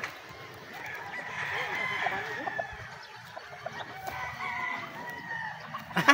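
Many chickens in a crowded poultry house where birds are bred, with a rooster crowing and hens clucking in a continuous close, busy chorus.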